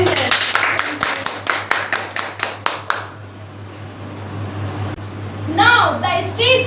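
Seminar audience clapping for a speaker, a few sharp distinct hand claps in a steady rhythm that stop after about three seconds, followed by quiet room tone and then a voice talking.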